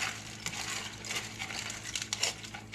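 A single serving of mac and cheese with cornstarch, smoked paprika and black pepper is stirred in a bowl, giving a steady close scraping and crinkly rustle with small clicks throughout, and no voices.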